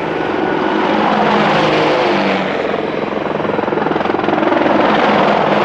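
A flotilla of combat helicopters flying overhead, loud and close, with a continuous heavy rotor thrum and turbine roar that holds steady and pulses slightly more distinctly toward the end.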